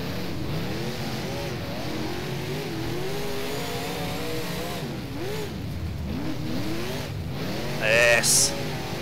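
Late model race car engine in the rFactor racing game at Kokomo Speedway, revving up and down steadily through the whole stretch with shifting pitch, joined near the end by a brief high squeal.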